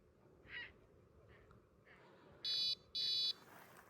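Electronic bite alarm at a carp fishing spot, giving two loud sustained beeps close together near the end, with faint chirps and soft outdoor background before.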